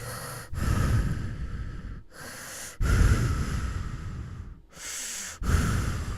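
Close, heavy breathing in slow, deep inhales and exhales, separated by short pauses, from the 1981 horror film My Bloody Valentine.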